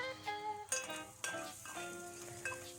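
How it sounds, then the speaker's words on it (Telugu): Rice being stirred into an egg fry in a pan, soft sizzling under sharp metallic scrapes and clinks of the spoon against the pan, close and fairly quiet, with no voices. "ఇప్పుడు ఇందులో మనం ఉండి ఉంచుకున్న రైస్ని కూడా వేసి బాగా కలుపుకుందాం"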